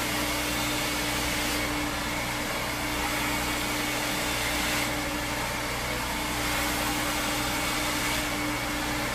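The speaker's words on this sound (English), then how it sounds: "So this entire blowout is being done with medium heat." A hair dryer on medium heat blows steadily during a blowout, a loud, unbroken airy whoosh with a faint hum beneath it.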